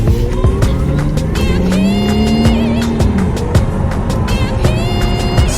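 A car rolls off a set of ramps in a home garage and drives away, its engine note rising and falling with brief tire squeals, fairly close and continuous.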